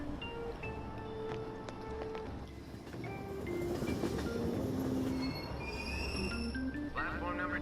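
Subway train in the video game Persona 5 Royal, a steady rumbling rail ride with wheel squeal and rising screeches toward the end, loud and continuous under a voice talking.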